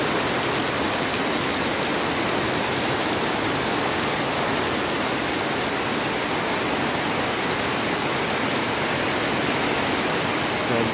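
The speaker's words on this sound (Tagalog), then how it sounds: "Umagang kay ganda, pero malakas ang ulan dito." Loud, dense morning downpour roars continuously, a thick unbroken hiss of heavy rain with no voices.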